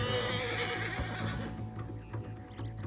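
A horse's whinny in the Red Dead Redemption video game sits under a dense, steady game soundscape and fades toward the end.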